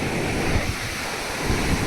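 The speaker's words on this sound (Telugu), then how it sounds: "అక్కడ నుంచి చూడండి ఎంత పెద్ద అలా వస్తుందో" Sea waves crash and wash onto Kothapalem beach near Chirala, a steady loud roar of surf with wind buffeting the microphone throughout, no voices.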